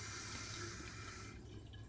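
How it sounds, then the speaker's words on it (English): Faint, steady trickle of toilet tank water running continuously into the overflow, with a soft hiss that thins out near the end. "It keeps running and it's just going out the overflow."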